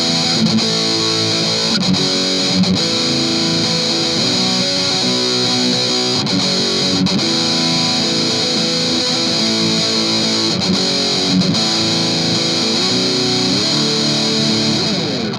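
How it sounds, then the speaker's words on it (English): Heavily distorted electric guitar riff played through a Boss Metal Zone pedal with the distortion dialed back slightly, a dense, loud, continuous chugging pattern with rhythmic accents that runs steadily for the whole stretch. "for the Metal Zone riff, I just ripped one of the presets straight from the manual and then dialed back the distortion a little bit"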